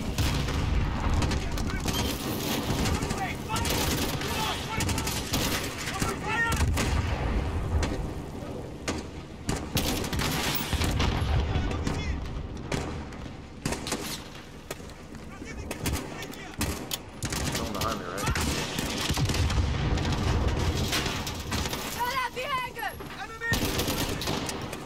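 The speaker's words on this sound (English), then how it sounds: "Oh god, there's grenades." Call of Duty: Modern Warfare campaign combat, with dense bursts of automatic gunfire and heavy grenade blasts rumbling through a chaotic, loud battle soundscape, while a player talks intermittently over the noise.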